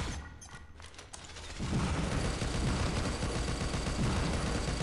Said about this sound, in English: I know someone else is shooting me too.